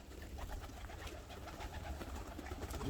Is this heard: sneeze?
no